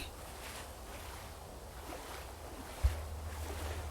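Water in the video game Prey for the Gods washes and surges in a steady broadband rush, like waves or a flowing stream, with one brief low thump near the end.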